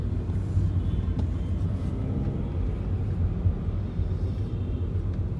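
Steady low road rumble of a car driving from Ahmedabad Airport to Gandhinagar, heard from inside as a constant engine and tyre drone with occasional small bumps.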